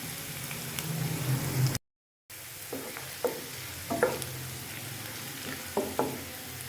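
Long slices of ginger sizzle in hot oil in a pan, a steady close frying hiss broken by a short gap and then several sharp clinks and scrapes from stirring.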